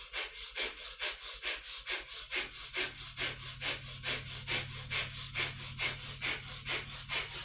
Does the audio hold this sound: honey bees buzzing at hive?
no